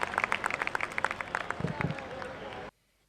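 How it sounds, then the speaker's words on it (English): Crowd of spectators clapping for a performance at a school annual sports meet, a dense run of claps with some cheering voices mixed in, stopping abruptly at the end. "Let's make some noise and give them a thunderous clapping"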